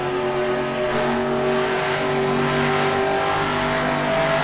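Stock cars race in the NASCAR Racing 2003 video game at Ontario, a loud continuous engine drone with steady high revving and no voices over it.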